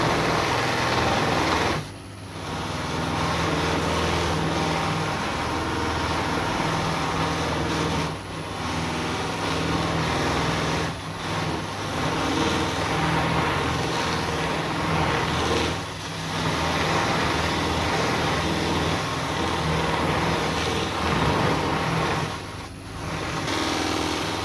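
A buffing wheel mop spins on a woodturning lathe while a natural-edged, winged holly bowl is polished, giving a steady whirring motor hum with several brief dips as the piece is worked.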